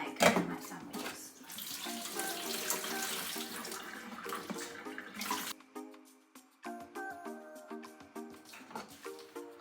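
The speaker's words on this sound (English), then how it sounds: "I'll just drain them a bit more first, because I don't want to have soggy egg on my sandwiches" Water running from a kitchen tap while boiled eggs are drained, a steady close splashing stream that eases off midway, then returns as lighter, broken trickles and drips.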